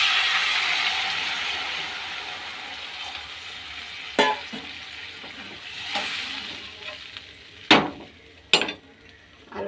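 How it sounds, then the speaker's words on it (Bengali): Hot water poured into fried spice paste in a pan sets off a broad hiss that slowly fades, broken by a few sharp clanks of a utensil against the pan near the end. "মশলাটা কষানো হয়ে গেছে, এখন গরম জল দিয়ে দিচ্ছি"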